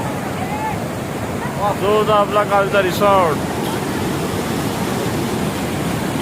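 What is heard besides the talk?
waterfall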